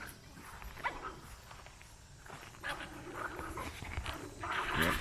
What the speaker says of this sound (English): Got the dogs having a little wrestling match down there.